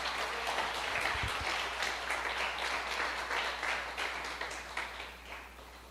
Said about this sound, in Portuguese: Dê uma salva de palmas ao Senhor, porque Ele é digno